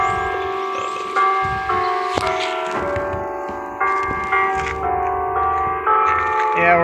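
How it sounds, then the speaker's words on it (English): Westminster chimes ring from the bell of First Methodist church in Vineland, New Jersey, a loud, clear sequence of struck tones with long overlapping decay, each note sounding in a steady measured rhythm. "Westminster chimes don't, they sound pretty good."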